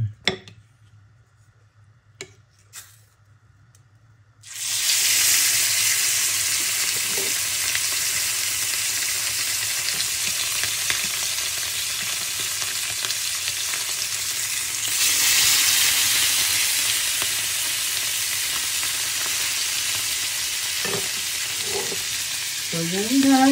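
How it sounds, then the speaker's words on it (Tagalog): Salmon frying in a pan over very low heat gives a steady, close hiss and sizzle that starts abruptly after a few quiet seconds with light clinks, then carries on continuously. "So magpiprito na tayo guys ng salmon."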